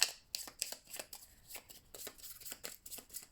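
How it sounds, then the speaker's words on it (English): Playing cards for the Cartographers board game are shuffled again and again, giving crisp, riffling bursts in an irregular rhythm, close by with no talking. "I'm shuffling this for an awfully long time."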